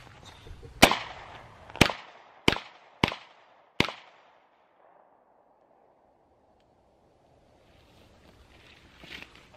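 Five sharp, loud gunshots come from a custom-built 1911 pistol with a compensator at a shooting practice, spaced about a second apart. Each crack rings out briefly, and then the sound falls nearly silent apart from faint rustling at the end.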